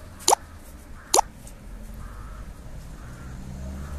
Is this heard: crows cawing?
yes